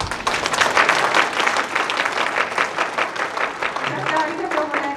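An audience at a Tokyo political rally gives sustained applause to adopt a resolution, a dense, steady patter of many hands clapping together that stays loud throughout and fades slightly near the end.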